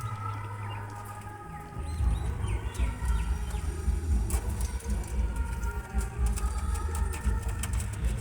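Teddy pigeons, including a Punjab Teddy male, coo in soft, repeated low throaty calls amid a busy background of rustling and other birds.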